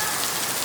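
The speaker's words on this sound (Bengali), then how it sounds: "দেখেন একেবারে মুষলধারে বৃষ্টি নামছে" A heavy monsoon downpour in the West Dhanmondi area of Dhaka, Bangladesh, after a spell of intense heat, drums loudly and continuously on surfaces close by.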